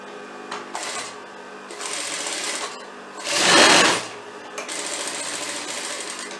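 An overlock sewing machine finishes the edge of a fabric pocket, whirring loudly in several bursts of stitching separated by short pauses, with one louder, faster run in the middle.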